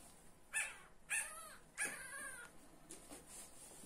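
A fifteen-day-old Boston Terrier puppy, separated from its mother, whimpers in a few thin, high, rising cries, three distinct ones followed by fainter whines, fairly quiet and alone.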